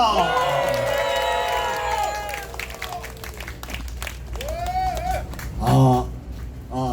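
Audience applause and cheering welcome a 79-year-old former vice defence minister at a civic security event, dense clapping with rising whoops under a loud amplified voice, then tapering into scattered claps and calls.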